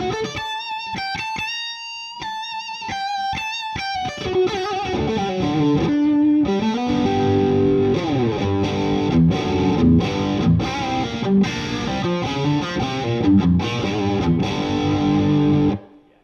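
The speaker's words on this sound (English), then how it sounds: "So bridge pickup on these Les Paul Customs just sound amazing. Really, really thick, meaty tones with that mid-range." A 1968-style Gibson Custom Shop Les Paul Custom on the bridge pickup plays through an overdrive pedal, starting with bright picked single notes and then thick, distorted chords and riffs ringing loudly for about sixteen seconds before stopping.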